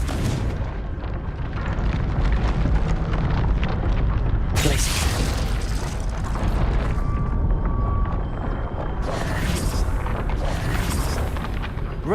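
Confringo blasting spells in Hogwarts Legacy, a dense continuous roar of explosive bursts and booming rumble throughout, with sharp bright blasts flaring up twice, loud and close with no speech.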